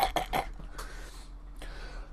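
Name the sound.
coughing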